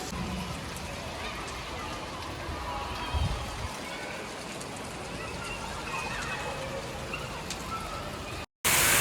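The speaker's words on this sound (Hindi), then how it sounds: "और खूब तेज़ हो गई है बारिश," Heavy rain pours down in Bahria Town, Karachi, a dense, steady wash of hiss that fills the whole stretch, with a brief low thump partway through and a short drop-out near the end.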